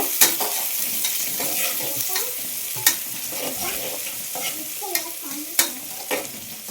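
A rice mixture with sliced onions fries in a pan with a continuous close sizzle. Sharp spatula clacks and scraping strokes of stirring come at irregular intervals.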